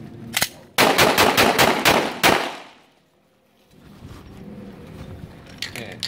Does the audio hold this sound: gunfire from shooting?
yes